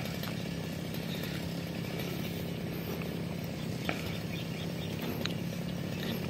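A motorized grass cutter clears weeds from a garden plot with a continuous, buzzing engine whine that runs loud and steady throughout, no voices.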